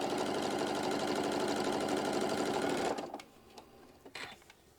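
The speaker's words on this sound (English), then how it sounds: "Stitching." A sewing machine stitching an appliqué piece runs steadily and loudly for about three seconds, then stops, followed by faint handling clicks.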